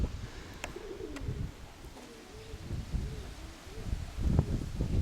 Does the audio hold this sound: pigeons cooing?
yes